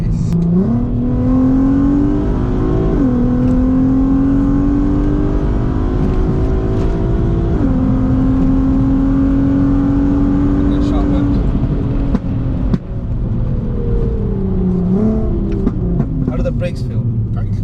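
Volkswagen Passat R36 with its VR6 engine accelerating hard, the exhaust note climbing steadily through the gears with brief dips at each shift, loud and close from inside the car, with people talking over it.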